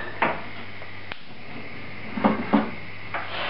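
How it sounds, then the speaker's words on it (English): A lid goes onto a cooking pot on a gas stove while fish sauce is being made, a few brief metallic clatters and knocks close by in a quiet kitchen. "Lid on."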